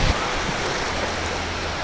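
Waves wash onto a sandy beach in a continuous, fairly loud rushing surge of water, with a brief thump at the start and no talk over it.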